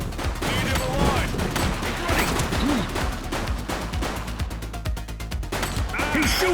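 Gunfire erupts in the police game The Precinct, irregular volleys and single shots crackling amid sirens and game noise, with voices calling out over the action.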